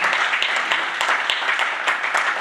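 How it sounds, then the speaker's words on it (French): Conference audience in Birmingham applauding itself, a dense, fairly loud wash of clapping from many hands with a few sharper claps standing out, continuous and even throughout. "Applaudissez pour vous-même."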